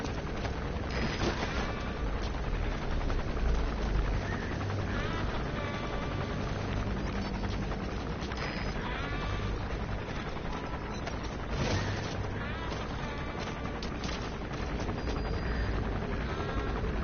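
A Metal Gear Solid V helicopter flies past, its continuous rotor roar with mechanical clatter swelling slightly midway, steady and fairly loud, with no voices.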